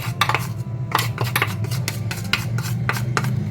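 Coarsely ground spices for kala dahi bhalla chaat masala are stirred together in a bowl. A spoon scrapes and clinks against the bowl in repeated, close strokes, with no one talking.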